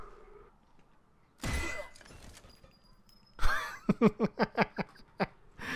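A cooking pot smacks an enemy in the video game Sniper Elite 4, producing a sudden sharp metallic impact, followed shortly by a second burst and then a run of rhythmic laughter-like pulses.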